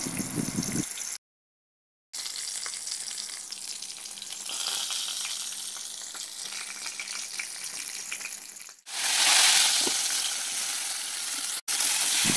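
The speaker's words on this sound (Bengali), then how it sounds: "আর এদিকে দেখো মা পটল ভেজে নিচ্ছে" Pointed gourd (potol) fries in a pan with a dense, crackling sizzle that runs throughout. The sound cuts out briefly near the start and swells louder toward the end, with no talking.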